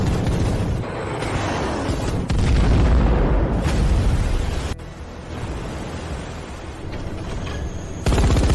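Dense, continuous barrage of explosions from airstrikes and ship gunfire in an animated battle against a monster invasion, loud booms rolling into one another with a sharp fresh burst near the end.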